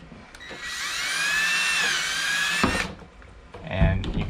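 A power drill bores through a classroom table, its high whine rising and steady for about two seconds before cutting off, followed by handling clatter and a brief final burst.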